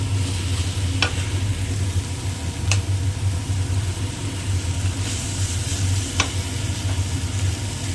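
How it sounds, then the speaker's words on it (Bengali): Spiced masala sautéing in a pan for a bitter gourd and potato dish, giving a steady loud sizzle throughout, with a few sharp clicks of a stirring utensil against the pan. "দেখো মশলাটা দিয়ে আমি কিন্তু এটাকে সুন্দর করে কষিয়ে নিয়েছি।"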